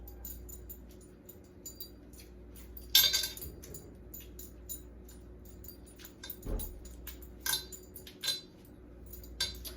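Kroger mild pork sausage being broken up in a pan, heard as intermittent metallic scrapes and clinks of a utensil against the pan, quiet between sharper bursts.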